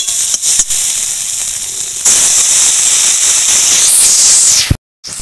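Chili powder and spice masala sizzle loudly in hot oil as they fry, a steady broadband hiss that swells midway and cuts out briefly near the end.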